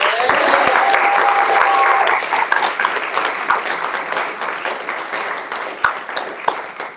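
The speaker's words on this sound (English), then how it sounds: "Can we get a round of applause for that?" A live audience at a motivational speaker series bursts into a loud, dense round of applause that rises quickly, then thins into scattered claps and a few sharper individual claps toward the end.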